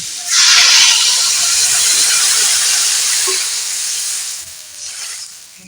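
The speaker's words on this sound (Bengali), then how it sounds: "এবারে ভালো করে নাড়াচাড়া হয়ে গেছে দিয়ে দেব জল" Water poured into a hot pan of ash gourd bursts into a loud, close hissing of steam that holds steady, then slowly fades and softens toward the end.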